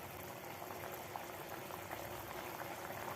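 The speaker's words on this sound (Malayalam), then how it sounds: "നല്ലപോലെ ഒന്ന് തിളച്ച് വരണം" Steady bubbling of liquid boiling in a pot, a continuous soft gurgle at low volume with no voices.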